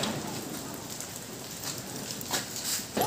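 Rain falling steadily during a Kali Puja visit on a college campus, a continuous broadband patter with a few louder bursts of drops near the end.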